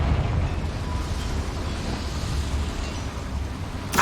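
Confringo spell explosion in Hogwarts Legacy, a loud, rumbling blast with a heavy low roar sustained across a few seconds, ending in a brief sharper burst.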